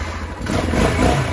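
A motorcycle that has sat unused for a long time is started and revved, its engine catching and rising into a close, steady mid-pitched roar over a short burst.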